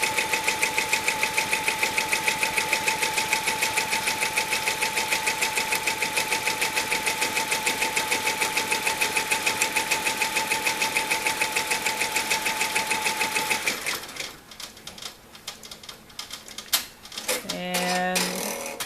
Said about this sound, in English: You can see it's stitching right below or right above that seam line.